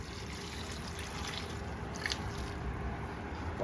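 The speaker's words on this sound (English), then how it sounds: "now we're gonna add some water" Water poured into corn masa already mixed with chicken soup for tamales, a steady wet trickle and squish running through the whole stretch at moderate volume, with no voices.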